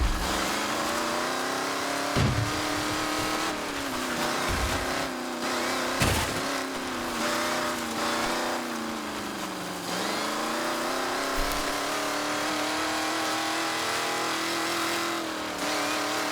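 A remote-control car races in The Crew Motorfest, its small engine whining and revving steadily with rising and falling pitch, plus a few brief thumps along the way.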